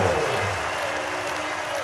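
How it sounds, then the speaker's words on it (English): A crowd cheers and applauds a High Priest, a dense, even roar of many hands and voices without distinct words, sustained throughout. "acknowledged the crowd as he bathed in the cheers rising to meet him"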